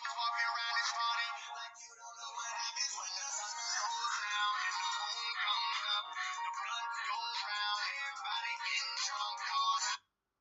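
A phone ringtone plays a loud, continuous, band-limited tune for about ten seconds, then cuts off abruptly, with no talk over it.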